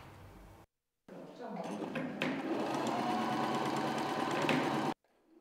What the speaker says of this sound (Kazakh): Олар қазір ең қажетті қорғаныс құралына айналған медициналық маска мен төсек орын жабдығын тігеді.